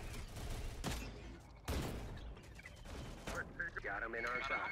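Gunfire crackles in Terminator: Dark Fate Defiance, a war game, as bursts of rapid shots and sharp blasts ring out amid battle noise, with voices talking over the fighting.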